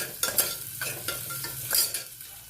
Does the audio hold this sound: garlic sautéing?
yes